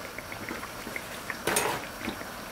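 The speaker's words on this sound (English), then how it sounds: "I'm going to continue frying those" Vegan fry bakes sizzling in a pan, a faint steady crackle with small pops and a brief louder burst of spattering partway through.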